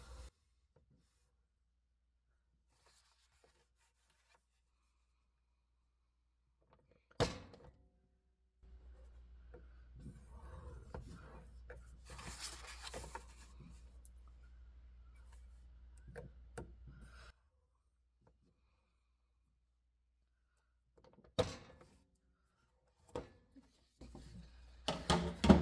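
Paper for an envelope folio is punched and scored with a craft tool: a few sharp isolated clicks, then a steady faint rubbing stretch for several seconds as the score is drawn. More quick clicks follow near the end, close and quiet, with no talk.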